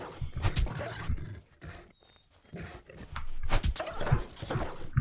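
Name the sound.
dog in video game Miscreated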